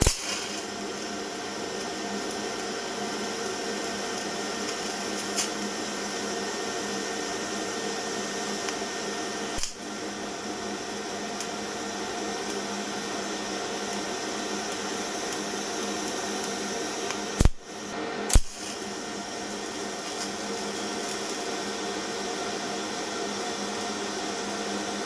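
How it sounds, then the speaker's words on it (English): A steady, even TIG welding hiss from a torch with a 12 cup and 1.6 mm thoriated tungsten on a cheap welder, feeding mild steel filler. It runs at one level throughout, with a couple of brief clicks near the end and no talk. "that's my attempt at TIG welding"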